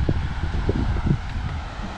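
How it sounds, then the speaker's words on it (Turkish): Low wind rumble buffets the microphone in uneven gusts at a tent campsite in Şile, with soft rustling and a faint hum underneath. "Bayağı rüzgar var. Rüzgar sesi varsa kötü."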